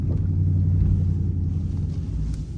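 Dodge Charger RT cruising in eco mode with the windows cracked, a deep steady low engine rumble dominating from inside the cabin, constant and fairly loud with no talking.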